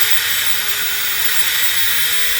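Electric drill whirring steadily as it spins up, drawing power from a 5.12 kWh LiFePO4 portable power station; a continuous high-pitched motor whine with a faint tonal hum, close and alone with no talk.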